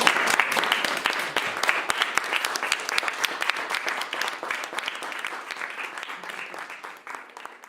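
Audience applause at a university retirement tribute, a dense spread of many hands clapping that starts strong and slowly tapers off over several seconds, with no voices over it.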